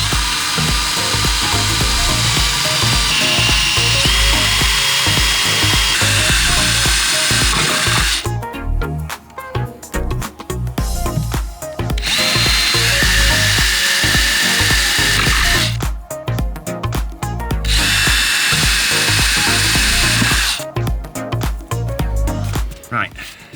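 A power tool cuts and chisels out a section of thick plastic near socket wiring, producing loud, sustained grinding whine in long bursts broken by short pauses.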